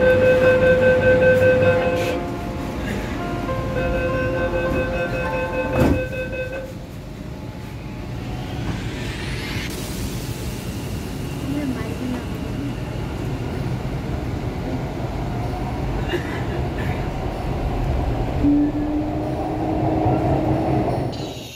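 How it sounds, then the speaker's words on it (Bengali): Metro train ride to Howrah: electric whine tones ring at the start, then a continuous carriage rumble fills the ride with a rising motor sweep midway, without talk. "ট্রেন মেট্রোতে চাপতে না চাপতে আমরা হাওড়াতে চলে এলাম"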